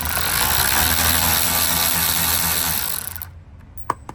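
A power tool whirs steadily up close while backing out a 10mm bolt from the rear bumper of a 2021 or later Chevrolet Tahoe, running for about three seconds, then stopping, followed by a couple of small clicks.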